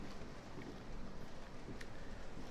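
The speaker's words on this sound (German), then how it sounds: "Ja, es regnet." Steady rain falls outside in the video game Resident Evil 7, a dense, even hiss of drops with soft wind, continuous and fairly faint, with no voices.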